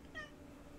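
A cat in the game The Curse of Grimsey Island gives a single short, clear meow up close.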